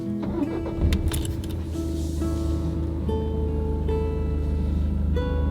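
A car pulls away and drives off, with a steady engine hum and tonal drone holding at moderate loudness, a few brief jingling or clicking sounds near the start.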